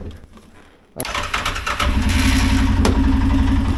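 An ATV engine cranks and fires up about a second in after near silence, then settles into a loud, steady idle rumble close by on a muddy, snowy trail.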